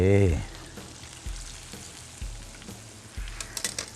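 Shrimp sizzle quietly in a pan while being stirred and tossed in chili sauce, with soft periodic thuds from a utensil against the pan.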